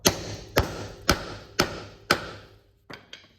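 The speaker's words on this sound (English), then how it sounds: "Hammer it on." Repeated metal hammer strikes drive a socket onto a lock cylinder on a 1972 Oldsmobile Cutlass, six sharp ringing blows at a steady half-second pace with two lighter taps at the end, close and alone.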